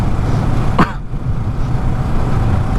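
Inside a moving car, a steady loud rumble of engine and road noise runs throughout, broken by one brief sharp vocal sound early on.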